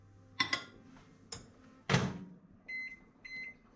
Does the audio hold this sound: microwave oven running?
yes